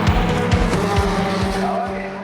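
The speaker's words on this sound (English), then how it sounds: "So the cars are coming back out now" Race cars roar past on a race track, a loud close engine drone with rising and falling pitch sweeps and a hint of tire squeal, fading slightly toward the end.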